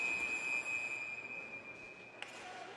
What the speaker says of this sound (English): A loud whistle heard here.